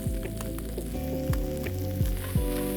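Vegetables stir-fry with browned beef mince, garlic and chilli in a pan, a close steady sizzle under a tonal music bed, with occasional scraping and stirring knocks.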